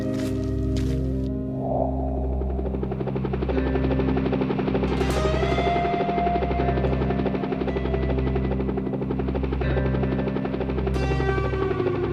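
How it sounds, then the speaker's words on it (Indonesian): Animated helicopter with a steady, loud rotor throb pulsing at a regular beat throughout, joined by a continuous engine whine, heard up close as a school group boards it on a mountain-climbing trip. "Ketua mau naik helikopter."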